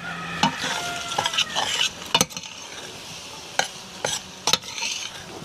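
Pasta stirred in a pot over a fire, with soft scraping and sloshing strokes and a few sharp clicks of a utensil against the pot, over a faint sizzle. No one speaks.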